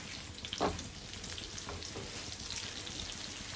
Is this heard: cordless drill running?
no